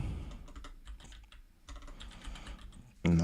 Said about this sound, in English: Okay, so I have to type.